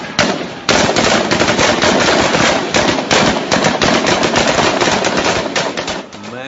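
Loud, dense gunfire during a riot over Jat reservation, rapid cracking bursts running almost without a break for several seconds and close to the listener.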